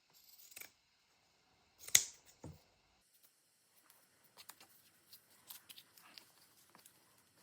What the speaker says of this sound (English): So let's cut some here.